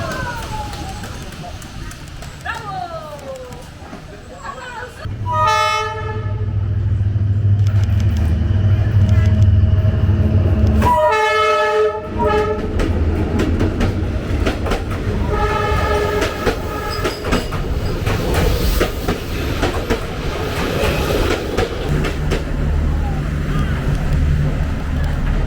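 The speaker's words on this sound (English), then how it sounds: "the train was traveling full speed, sweeping right before me" A loud train roars past at full speed near Hanoi, Vietnam, with heavy rumbling and rattling wheels, its horn blaring several times, and voices talking underneath.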